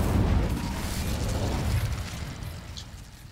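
Incendio fire spell cast in Hogwarts Legacy, a loud whooshing burst of flame that roars up at once and fades over a few seconds, with no voices over it.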